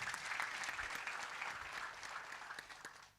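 A church congregation breaks into sustained applause, a dense wash of many hands clapping at a moderate distance that fades out near the end.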